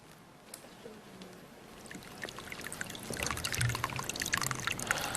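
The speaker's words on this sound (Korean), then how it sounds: "위에 보이는 이 큰 항아리에 물을 부으면은 그 물이 그 밑에 있는 이 작은 항아리를 거쳐서 지금 이 옆에 있는 이 긴 통 속으로 옮겨지게 된다는 말이죠" Water trickling and pouring through stacked ceramic jars of a traditional Korean water clock, a soft close dribble that grows fuller and busier over a few seconds.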